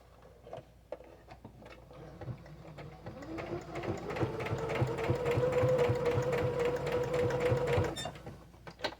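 A sewing machine stitches a kitchen curtain seam, starting with a few slow clicks, then running in a fast, steady rhythmic whir of repeated needle taps before stopping, all close up.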